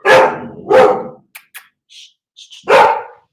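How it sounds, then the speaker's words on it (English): A pet dog barks indoors, three loud, close barks with a pause between the second and third, while faint yips and small squeaky noises fill the gap. "Every time my dog barks."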